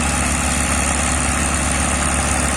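A sand dredging ship's engine drones on a river, a steady, loud, low rumbling hum with constant vibration and no voices.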